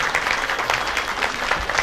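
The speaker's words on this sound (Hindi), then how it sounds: "तालियां हो जाए थोड़ी" Brief, moderately loud clapping from a crowd at a women's honour ceremony and ration kit distribution, with uneven individual claps audible.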